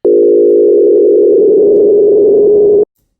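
A single sustained tone from an FM wavetable synth patch in Phase Plant, starting as a clean steady pitch and gradually morphing into a rougher, noisier texture for about three seconds before stopping abruptly.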